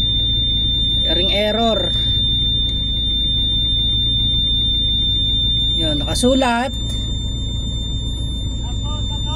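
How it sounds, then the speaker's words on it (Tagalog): Warning alarm on an XCMG XE135B excavator signalling an oil water separator fault, a steady high electronic tone sounding continuously beside the idling engine hum while someone speaks briefly twice. "Oil water separator alarm."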